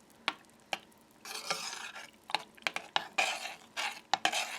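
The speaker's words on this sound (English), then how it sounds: "Gently stir it until it's well mixed, kind of in the same way you'd make chocolate sauce or fudge." Cocoa powder being stirred into melted butters for edible organic candles, heard as soft scraping sweeps and sharp taps of a utensil against the bowl in irregular bursts, close and fairly quiet.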